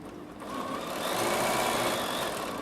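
A Bernina 7 Series sewing machine whirs steadily, rising slightly in loudness, with a faint high electronic stitch regulator warning tone sounding over the motor. No one speaks.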